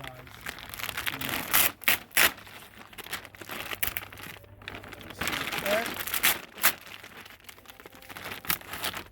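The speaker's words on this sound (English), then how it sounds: "find a seam, pull that seam back, and rip it down just like that right here" A woven feed bag is ripped open along its seam, giving a series of crinkling, tearing rips in bursts close to the microphone while a person talks throughout.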